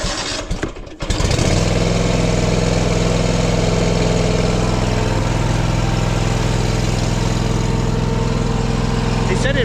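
A broken-down car, jump-started with jumper cables and known to stall after about ten seconds, cranks briefly, catches, and then runs at a loud, steady idle close by.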